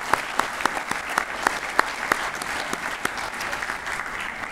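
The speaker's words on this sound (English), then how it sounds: "let's get another big round of applause for everyone else out there" Applause from an audience at the 2016 IGFA Angling Achievement Awards, a steady wash of many hands clapping with sharper individual claps standing out, sustained throughout at moderate distance.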